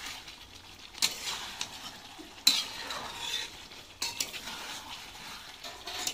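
Chicken curry is sautéed in a pan, a faint background sizzle broken by three sharp spoon scrapes and knocks against the pan spaced a second or so apart, no one speaking.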